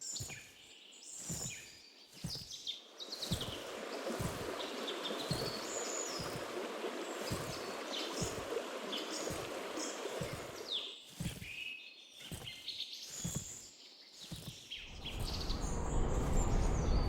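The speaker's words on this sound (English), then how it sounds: "I added footstep sounds and background birds chirping" Video game ambience with a steady rushing stream of water, scattered bird chirps and tweets, and a regular series of footsteps crunching along, all fairly close and continuous with no talking.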